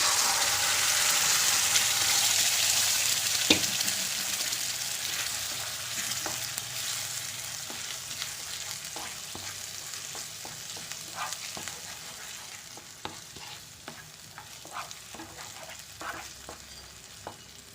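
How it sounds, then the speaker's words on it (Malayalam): Ground tomato paste hits hot oil seasoned with Kashmiri chili powder for a tomato chutney, giving a loud, steady sizzle that slowly settles, with scattered spoon clicks and scrapes from stirring. "അരച്ച് വെച്ചിരുന്ന ടൊമാറ്റോ അതിലേക്ക് ഒഴിച്ചു കൊടുക്കാം"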